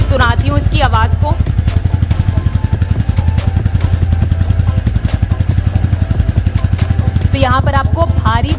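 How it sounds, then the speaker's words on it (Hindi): A Royal Enfield Meteor 350 motorcycle engine idling with a steady, rapid thumping rhythm, loud and close, while someone talks briefly over it at the start and end. "अब मैंने बाइक को स्टार्ट कर दिया है तो मैं आपको सुनाती हूँ इसकी आवाज़ को।"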